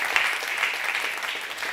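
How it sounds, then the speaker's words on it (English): A conference audience in Rotterdam gives applause for participants and their mentors, a soft, fairly distant wash of steady clapping that stays even throughout its brief length. "one more time, round of applause for all the talents and their mentors"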